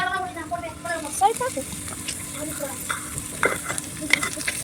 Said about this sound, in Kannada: ಈರುಳ್ಳಿನ ಚೆನ್ನಾಗಿ ಫ್ರೈ ಮಾಡ್ಕೊಳ್ಳೋಣ